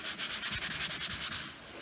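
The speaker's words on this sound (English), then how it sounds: "I'm getting ready now to do the sanding on the cabinet, the top and front." Sanding the top and front of a 1947 GE console radio cabinet: a steady, close, scratchy rasp pulsing in quick regular back-and-forth strokes, alone with no talk, easing slightly at the end.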